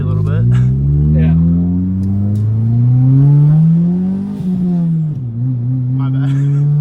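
A 1995 Honda Del Sol with a big turbo and no muffler revs up through the gears from inside the car, its loud engine climbing in pitch and dipping at shifts, under brief talk.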